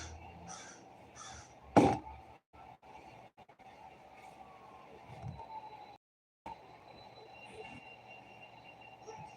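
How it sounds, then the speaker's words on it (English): A raven kept indoors caws from a distance, a few faint calls standing out against a steady background hum, with one louder sharp burst partway through. "I've been trying to train this raven inside to come and eat snacks"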